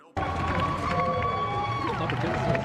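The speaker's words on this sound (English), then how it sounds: "Why are they applauding?" Sudden burst of dense clapping and cheering from a crowd waiting in line at an Apple Store for the iPhone 6 launch, loud and sustained from the start, with voices mixed in.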